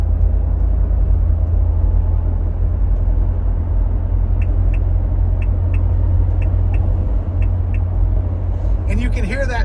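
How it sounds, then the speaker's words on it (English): An INEOS Grenadier sounds its overspeed warning while driving on the road, a series of evenly spaced faint clicks ticking over the steady low cabin rumble. "you can hear that series of clicks. That is the system warning you that you're exceeding the speed limit"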